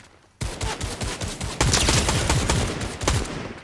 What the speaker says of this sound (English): Oh, they're sniping at us right there.